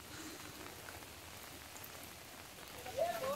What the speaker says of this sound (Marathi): पाऊस पण भेटलाय आम्हाला.